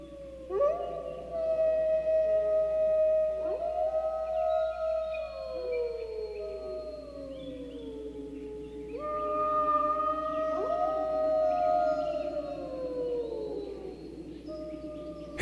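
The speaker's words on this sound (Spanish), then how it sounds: "El aullido de los coyotes no cesaba." Several coyotes howl in long rising and falling wails, overlapping into an eerie chorus that repeats in two waves against a quiet background.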